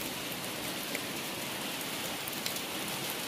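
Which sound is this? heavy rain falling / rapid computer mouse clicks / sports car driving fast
heavy rain falling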